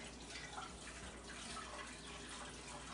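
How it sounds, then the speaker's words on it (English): Tap water running into a sink during handwashing in a home kitchen, a soft steady hiss and splash heard faintly and continuously with no talk. "I'm gonna wash my hands real quick"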